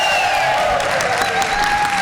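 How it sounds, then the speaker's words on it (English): A room full of music educators applauds themselves at a Pennsylvania music education association meeting. A brief, even wash of clapping is heard with a sustained tone running over it. "I want you to applaud for yourselves, please."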